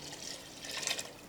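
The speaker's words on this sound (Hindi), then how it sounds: "ये इसमें मज़ीद पानी ऐड कर दिया हमने" Water is poured into a pressure cooker holding meat and bones for nihari, a soft steady splashing stream heard close up for just over a second.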